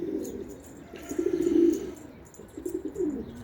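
Pigeons coo in soft, repeated rounded phrases close by, swelling and fading over a quiet background with faint chirps.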